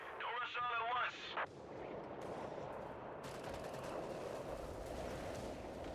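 Mortar fire in the video game Company of Heroes 3, heard as dull booms and impacts within a continuous loud battlefield din, with a brief voice-like sound near the start.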